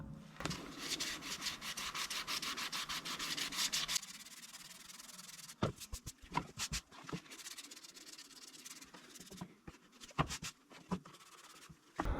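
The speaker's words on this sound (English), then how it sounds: "the goal is to start sanding that black away and not break through the primer" 600 grit sandpaper is rubbed over primed Honda ATV plastic in steady, close, quiet scrubbing strokes, then in irregular short scrapes.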